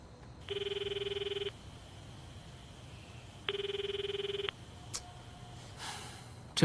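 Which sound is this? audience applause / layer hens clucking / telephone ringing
telephone ringing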